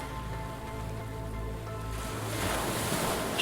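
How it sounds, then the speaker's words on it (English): Sea waves wash steadily onto a shore, a continuous close surf roar that swells louder toward the end, with no voices. "It can be really therapeutic listening to the sound of the sea."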